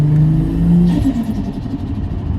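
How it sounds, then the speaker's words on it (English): Nissan R33 Skyline engine revving hard nearby, a loud rising growl that peaks and then drops back into a rumbling idle, with no talk over it. "Forgot how good this car sounded."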